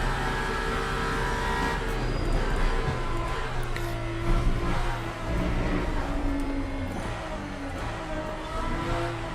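The Aston Valkyrie GTP race car's engine in the Le Mans Ultimate racing game, a steady high-pitched howl rising and falling slightly through gear changes, loud and continuous with no talking.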